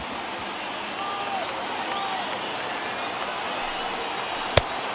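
Stadium crowd of over 39,000 fans at a Dodgers vs. Rangers baseball game in MLB The Show 21, a steady, distant roar of cheering that holds level throughout, with a single sharp crack near the end.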